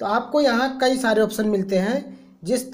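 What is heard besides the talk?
No everyday noises stand out.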